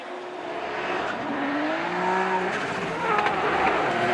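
A TMS Racing Team Good Ride E92 drift car at a Formula Drift Japan event, engine droning loud and steady with rising pitch sweeps and tire squeal, continuous throughout with crowd ambience beneath.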